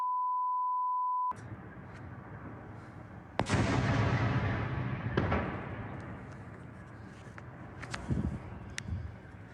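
At night, a steady test beep, then a sharp loud blast followed by a long rolling rumble and several further distant booms and cracks, as explosions strike Luhansk.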